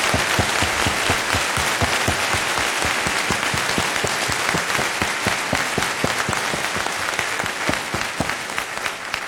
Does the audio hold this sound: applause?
yes